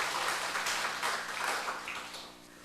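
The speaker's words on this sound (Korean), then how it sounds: "우리 격려의 박수로 하나님께 영광 돌리겠습니다." A church congregation claps in appreciation of its choir, a soft, dense patter of many hands that swells and fades slightly before tapering off, with no voices.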